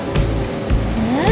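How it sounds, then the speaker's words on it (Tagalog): Stream or river water flows steadily on a mountain hike at Ha Fa Shan, Tsuen Wan, a continuous close rushing wash with a faint rising tonal sound over it near the end. "Ano yan? Sapa?"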